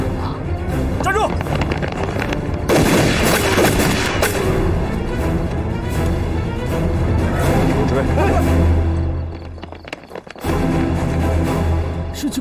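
Gunfire in a wartime spy TV drama: several loud sharp shots and booms burst over tense shouting voices and score, with a dense stretch of rapid firing, then a brief lull before the noise resumes.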